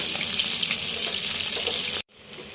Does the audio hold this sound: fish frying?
yes